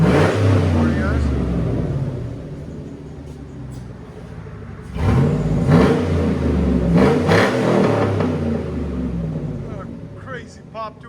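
Custom Hummer H2 with a 6.2-liter V8 and straight-pipe exhaust, revved hard in loud, rumbling bursts with sharp pops between a lower idle, heard up close while someone talks over it.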